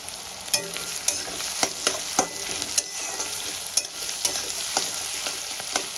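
Onions fry in a pan for a Kashmiri chicken dish, a steady sizzle broken by regular clinks and scrapes of a spoon stirring, close and fairly loud with no talking.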